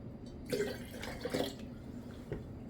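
Water is poured into a jar in two soft bursts of splashing and trickling. It sounds close but quiet and no one speaks.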